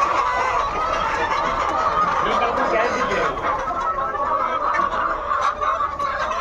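A flock of tiger chickens on a poultry farm fills the air with dense, continuous clucking and squawking, close and loud, while human voices murmur underneath.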